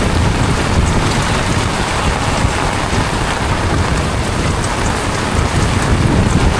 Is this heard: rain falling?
yes